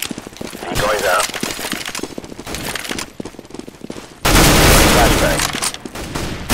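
A CS:GO decoy grenade sputters fake automatic gunfire in rapid bursts, followed by a sudden loud, dense blast of noise, with game chatter and voices mixed underneath.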